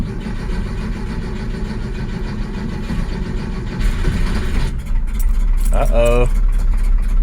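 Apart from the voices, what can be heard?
1966 Porsche 912 engine starting and running after carb rebuild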